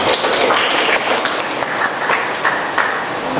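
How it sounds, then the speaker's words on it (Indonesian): Steady, dense clapping from a small classroom group of about thirteen students during a teaching practice lesson, close and continuous throughout with no talk over it. "Oke, tepuk tangan."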